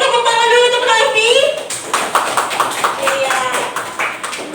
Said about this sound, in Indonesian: Tepuk tangan dulu untuk Raffi